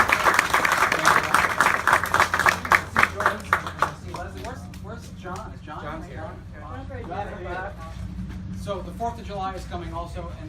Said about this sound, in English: Let's applaud the volunteers.